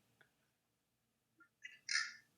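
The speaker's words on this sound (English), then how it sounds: "bird chirp." A single bird gives a short, bright call, sharp and fairly clear against near silence, after a faint click or two.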